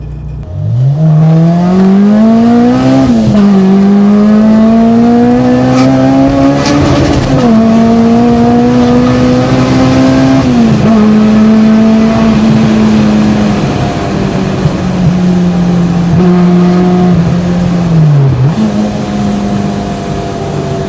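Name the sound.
tuned car exhaust popping while revving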